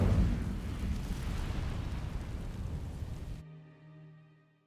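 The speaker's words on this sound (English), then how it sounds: "These dry vines are one spark away from becoming kindling. Incendio!" A fire spell cast on dry vines in Hogwarts Legacy, a loud rushing roar of burning flames that crackles steadily for over three seconds, then cuts off into a fading low hum.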